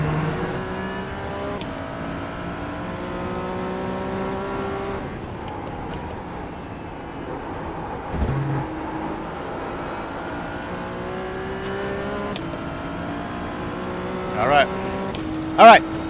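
A Ferrari race car engine in the iRacing sim at Oulton Park drones steadily with layered harmonic tones, a shift in pitch midway and a couple of brief louder bursts near the end, with faint talk at times.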